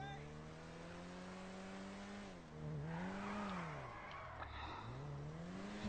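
A stolen car's engine in the video game GTA V hums steadily, then revs and settles with rising and falling pitch, close and continuous beneath someone talking.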